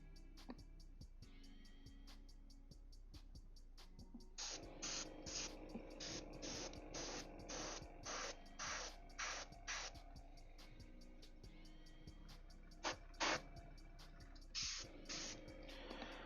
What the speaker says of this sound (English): Bad airbrush, bad airbrush.